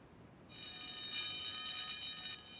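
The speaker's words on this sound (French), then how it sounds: "la sonnette d'alarme retentit à nouveau." A high, steady ringing bell starts abruptly and keeps sounding continuously for a couple of seconds, bright and fairly loud against a quiet background.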